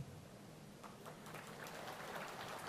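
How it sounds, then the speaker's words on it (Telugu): Faint, thin applause from an audience at a party workshop inauguration, with only part of the crowd clapping: a soft, scattered patter of hands that stays quiet and steady. "సగమే చప్పట్లు కొట్టారు,"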